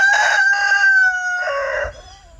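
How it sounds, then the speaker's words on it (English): Wild turkeys walking through a yard call out loudly and nearby, giving two or three harsh, strained, drawn-out cries in quick succession. "these freaking wild turkeys just walking right through the yard"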